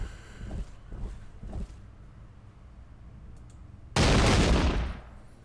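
A musket volley rips out in a video game battle of the American Revolution at Brandywine Creek: a few scattered low thumps, then one loud, crackling burst of massed fire that rolls on for about a second and fades.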